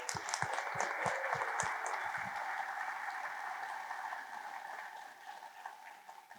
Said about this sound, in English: So just another big round of applause for the crew.